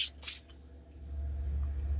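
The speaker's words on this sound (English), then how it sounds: "I'm going to spray my face with that." Trader Joe's Rose Water Facial Toner is sprayed onto a face in two quick, close hissing bursts from a pump mist bottle, followed by quiet room tone.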